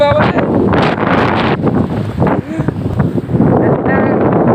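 Strong gusting wind buffeting the microphone on rocks at the seashore beside large waves, a loud, roaring, continuous rush with brief faint voices underneath.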